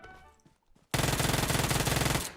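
After a brief quiet lead-in, a loud sustained automatic burst erupts in PUBG Mobile, rapid evenly spaced shots hammering nonstop for over a second at close range.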